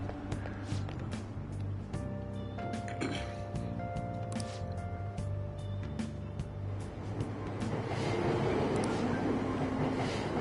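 Train sounds from Persona 5 Royal at Aoyama Itchome station: a steady low rumble of railcars with squeals and clanks, rising louder toward the end, with no talk over it.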